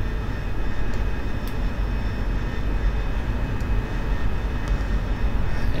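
A jet aircraft engine roars at full throttle for a night bombing-run takeoff, producing a loud, constant, close, broadband rumble with a faint high whine and no talk.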